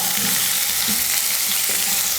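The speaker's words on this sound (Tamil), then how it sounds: "வெங்காயம் நல்லா வதங்கிடுச்சு." Chopped onions and chana dal frying in a pan for kara paniyaram give a steady, close, even sizzle with a soft crackle throughout, and no voices.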